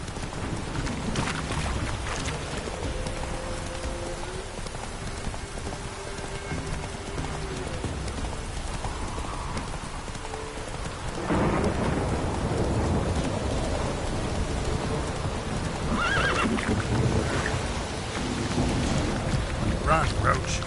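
Roach, Geralt's horse in The Witcher 3, gallops in rhythmic hoofbeats over rain and rumbling game ambience, getting louder and busier partway through; no clear neigh stands out.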